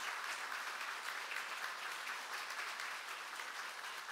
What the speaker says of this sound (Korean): 우리 인사하실 때 크게 한번 박수해 주시기 바랍니다.